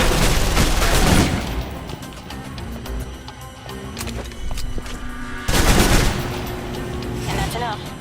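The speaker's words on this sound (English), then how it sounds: "If you're trapped in close quarters with multiple opponents, the SMGs can help clear the room quickly." Submachine guns fire in close-quarters combat in the video game Alpha Protocol, with loud, dense bursts of rapid gunfire at the start and again near the end and sustained shooting noise between them.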